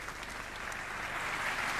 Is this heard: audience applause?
yes